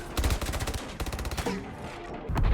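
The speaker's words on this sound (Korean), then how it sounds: "총을 쏴대고" Gunfire from Michael Bay's action film 6 Underground, loud rapid automatic bursts in a dense rattling volley, a short pause, then more fire and a heavy blast at the end.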